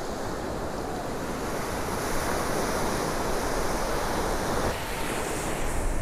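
Steady roar of surf and waves with gusting wind on a crowded Delray Beach in South Florida, continuous broadband wash with no clear voices.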